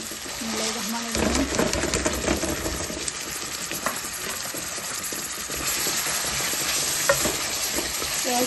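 Onions frying and being stirred in a pan of oil while cooking a Sylheti-style pilau, with steady sizzling and scraping stir strokes, a few light metallic clinks, and faint voices in the background.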